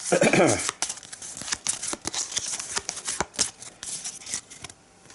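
Arkham Horror playing cards being cut and riffled together in a rapid flurry of papery snaps and flutters, close and fairly loud, with a burst of riffle at the start and quieter shuffling after.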